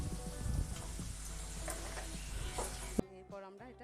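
Eggplant in a pan being stirred with turmeric over low heat, a steady close sizzle with scraping stirs, cutting off abruptly near the end.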